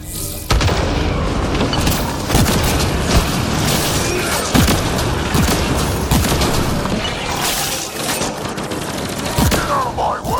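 Rapid gunfire and heavy booming explosions from the shooter video game Mass Effect Andromeda pound continuously and loudly, with dense rattling bursts and impacts layered throughout the battle.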